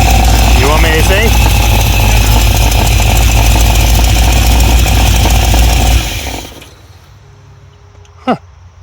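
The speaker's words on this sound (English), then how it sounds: "You got yourself a good engine. 454." A Big Block Chevy 454 V8 in a motorhome runs with a loud, steady, rough roar close by for about six seconds, then cuts out, leaving low background noise and a brief voice.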